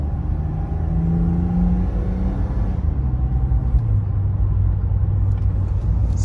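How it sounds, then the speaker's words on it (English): A 1993 Mercedes-Benz 300E (W124) sedan heard from inside the airtight cabin while driving: a steady low engine and road rumble with a smooth hum that shifts slightly in pitch partway through, no talking. "such an incredibly smooth car to drive. Very airtight cabin, not a lot of road noise."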